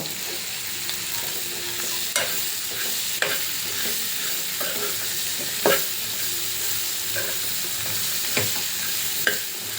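Cashews and other ingredients for a spicy green-chilli egg gravy curry fry in hot oil with a steady sizzle, broken by occasional sharp knocks of a spoon stirring the pan; no one speaks.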